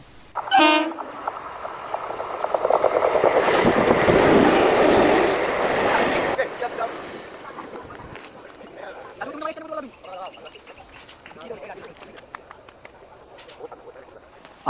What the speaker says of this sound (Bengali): প্রায় এক ঘন্টা অপেক্ষার পর এবার ফাইনালি ট্রেনটা আমাদের চলেই আসলো